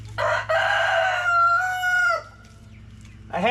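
A rooster crows once, loud and close, a long drawn-out call that rises then trails off, over a low steady hum.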